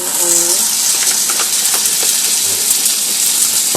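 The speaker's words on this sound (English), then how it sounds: "so that way we can get that nice flavor sizzle we all want and hope for" Food sizzling loudly in a hot pan, a steady bright hiss with small pops and crackles, joined briefly by a faint voice near the start.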